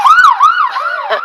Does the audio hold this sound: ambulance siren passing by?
yes